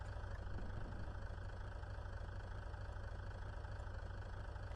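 A virtual car engine idles in the BeamNG.drive driving game, a steady low mechanical hum with a fine, even rhythmic pulse, constant and unbroken at a moderate level.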